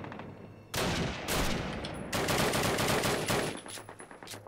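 Rapid bursts of automatic gunfire in Call of Duty, loud and close, with several sustained volleys and short pauses between them, and no talk.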